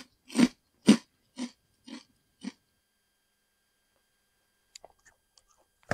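Crunching of Lay's honey butter flavored potato chips: five sharp bites, close and loud, spaced about half a second apart and slowly fading, then a pause and a few faint crackles.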